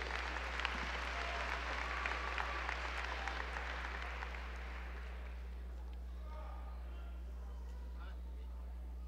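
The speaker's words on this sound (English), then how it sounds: "Let's give another round of applause to the supervisor," A graduation crowd applauds the supervisor, Michael Antonovich, with moderate clapping over a steady low electrical hum. The clapping fades out about halfway, leaving the hum and a voice speaking faintly.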